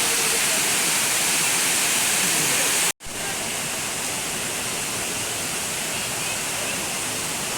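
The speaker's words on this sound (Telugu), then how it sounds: "elephant water falls" Water at Elephant Falls in Shillong, Meghalaya, rushes in a continuous loud roar from nearby, interrupted once by a sudden brief cut before the steady roar resumes.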